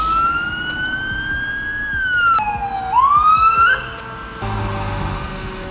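A fire truck siren wails loudly and close by, its pitch rising and falling, then cutting off into a steady engine rumble.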